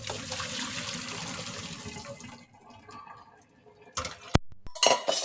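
Cooked greens for a vegan gomae salad are poured through a kitchen strainer as a steady rush of draining water fades out, followed by sharp clinks and clatters of dishes and utensils.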